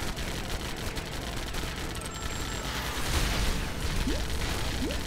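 Missiles launched from a biplane in the Lego Batman video game, a steady dense barrage of bursts and whooshing blasts with rising swooshes near the end, loud and close, no talking.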